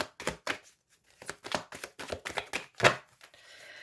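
Tarot cards being cut and handled on a table, a quick run of soft, crisp slaps and snaps in an irregular rhythm, close and fairly quiet, ending in faint hiss.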